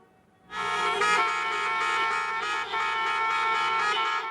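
A sustained, loud horn blast with a bright buzzing tone holds steady for several seconds, with slight wavering as more horns overlap, from motorists honking in support of demonstrators in Miami traffic, January 1991.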